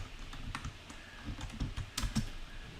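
Code is typed on a computer keyboard in quick, close, irregular clusters of key clicks, with no voices.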